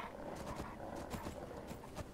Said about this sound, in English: Alright, come on horse,